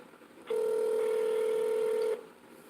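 A single sustained keypad tone sounds on an automated telephone line, steady and clear for about a second and a half before cutting off, with no voices.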